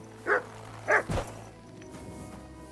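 Dog barks in Kingdom Come Deliverance 2, three sharp barks in quick succession close by, the last one shorter and rougher, followed by quieter background ambience.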